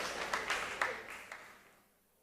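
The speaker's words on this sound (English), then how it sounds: "Another round of applause." An audience claps at a Seventh-day Adventist church session, a short, faint round of applause with a few sharper claps that quickly fades into quiet.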